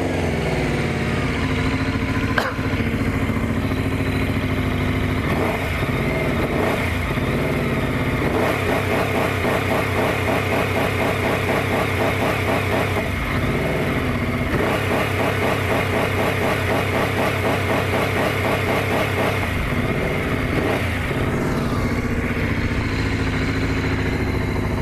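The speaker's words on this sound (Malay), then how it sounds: "kita boleh dengar lah dentuman enjin dia" A Benda Dark Flag 500 motorcycle engine runs steadily and loudly, with a pulsing mechanical beat and some clatter held at a constant level throughout, with no voices over it.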